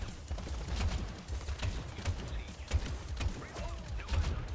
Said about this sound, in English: I'm gonna pick people off with the pistol